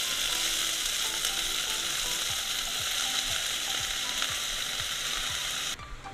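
Finely chopped fenugreek leaves sizzle in garlic oil in a pan for lasuni methi, a steady hissing fry with faint scraping taps underneath, close and unbroken, with no talking.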